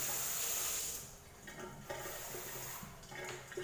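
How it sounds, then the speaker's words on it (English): Cold water pours for semolina porridge in a hissing, splashing stream that is strongest at first, then eases into quieter trickles and drips, close by and without talk. "I'll put a 1/4 cup of cold water."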